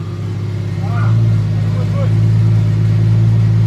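A Toyota MK4 Supra with a swapped-in T56 Magnum six-speed gearbox, its engine holding a steady, loud low rumble that climbs slightly in revs, with brief voices heard over it.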